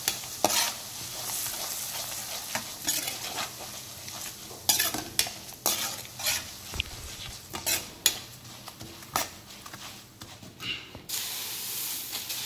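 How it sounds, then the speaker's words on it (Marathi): A spoon repeatedly scrapes and taps through chivda being mixed with turmeric, salt, garam masala and red chili, irregular stirring strokes and clinks over a faint sizzle, close up. "हे आता चांगलं मिक्स करून घ्यायचं ह्याच्यामध्ये थोडंसं"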